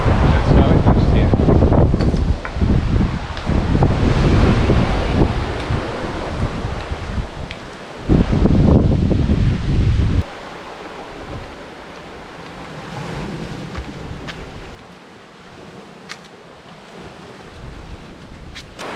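Wind and surf on the beach of a small fishing village, loud gusty buffeting on the microphone for the first ten seconds, then a steadier, quieter wash of waves and breeze.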